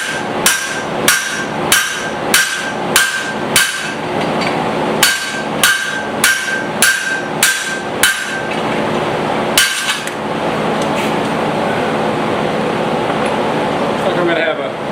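A hammer strikes hot metal while forging a tiny hammer, a steady run of ringing blows at about two per second, with a gap and a few more strikes. A fan-like hum continues underneath throughout.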